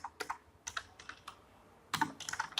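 Code being typed on a computer keyboard: scattered bursts of crisp key clicks with short pauses between them, and a quicker run of taps near the end, close and clear with no talking.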